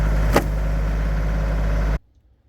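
A tractor engine idling on a hillside, a steady loud close drone with a constant low rumble and a brief higher whine early on, cutting off abruptly near the end into quiet.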